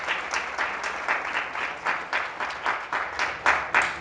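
An audience at a lecture applauds a reading, a dense round of clapping that pulses in a fairly even rhythm, close and steady for the whole stretch.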